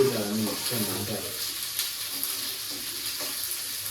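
Onions and tomatoes fry in oil for a Mughlai chicken dish, a steady close sizzle with stirring, while a voice briefly talks over the opening moments before the frying continues alone.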